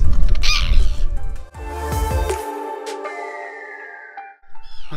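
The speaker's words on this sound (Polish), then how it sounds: "Myślę, że te ptaszki tutaj skrzeczą nade mną, bo mają tu jakieś gniazda." Seabirds screech overhead near their nests on the coast at Ballinskelligs beach, loud harsh repeated calls close above, with wind rumble underneath and brief quieter gaps.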